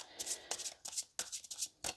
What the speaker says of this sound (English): I'll give it a little bit more of a shuffle, and then I will cut the deck.